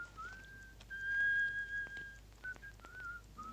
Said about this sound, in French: Arrêtez de siffler.